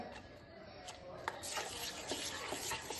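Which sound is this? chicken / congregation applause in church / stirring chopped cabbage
stirring chopped cabbage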